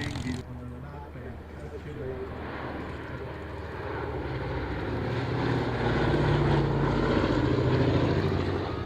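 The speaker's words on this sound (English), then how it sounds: "Mustang to 122 open. B-17 commencing last pass." Propeller aircraft engines, a B-17 bomber and a Mustang, roar past at Duxford. The drone swells gradually from distant to louder, with a voice talking over it.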